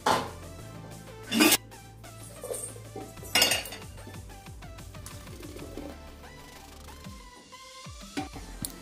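Masala stirred in a pressure cooker while making a country chicken curry, with a spoon scraping and clinking against the metal in a few loud bursts over a low steady background.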